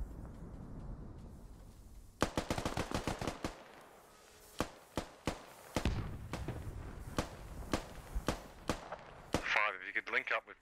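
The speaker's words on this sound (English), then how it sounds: "Airstrike coming in on him." An airstrike lands in the military shooter SquadOps as a run of sharp, heavy explosive cracks, spaced irregularly and fairly close, with voices talking over part of it.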